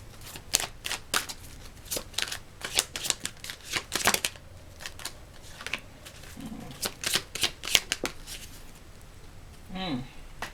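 Astrology cards are shuffled repeatedly for a reading, giving crisp, rapid riffling bursts in an irregular rhythm, close and fairly loud, with a brief soft tone near the end.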